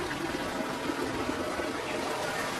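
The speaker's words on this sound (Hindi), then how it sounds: "थोड़ी ही देर में लाडू के भी घोंसले में पानी जमा होने लगता है" Floodwater pours and gushes into a bird's nest as a sound effect in a children's story, a steady, full rushing wash of water with no pauses.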